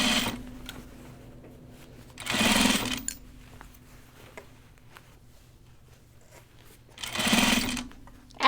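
A sewing machine stitches pajama bottoms with piping, running in two short, loud bursts separated by quieter pauses, close by.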